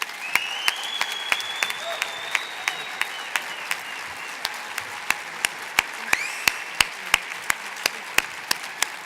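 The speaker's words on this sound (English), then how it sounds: "Please, another round of applause for Mayor Beitler." Audience at the 2019 Mayor's Arts Awards ceremony applauds steadily throughout, a dense sustained wash of clapping with a few sharper individual claps standing out near the microphone and some faint voices underneath.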